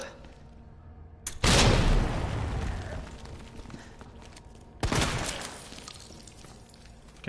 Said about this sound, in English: It's flashbang.